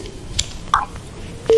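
Telephone keypad tones and a short connecting beep as a call is picked up on a radio show, brief electronic pips ending in a steady tone, with faint voices in the background.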